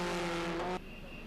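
Historic racing cars, among them a 1961 Formula One Lotus 21, run round the circuit toward the assembly area. One car's engine note passes by loud and fairly close, then drops away sharply into a quieter background hum.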